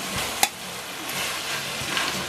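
A rice noodle dish is tossed and mixed in a pan over steady frying sizzle. A single sharp utensil knock comes early, followed by quieter scraping strokes.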